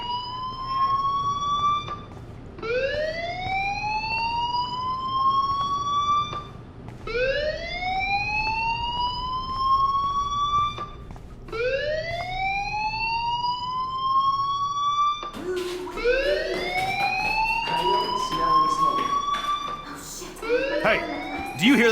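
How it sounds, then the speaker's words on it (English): A fire alarm in the video game Life is Strange wails in repeated rising sweeps, about five long whoops in steady rhythm, loud and near, with a harsher overlapping burst near the end. "Hey, do you hear that fire alarm?"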